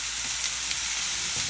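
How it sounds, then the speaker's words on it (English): Soy sauce poured into a hot pan of frying egg and rice gives a loud, steady close sizzle with faint stirring scrapes and no talk over it. "And then we're going to add some soy sauce."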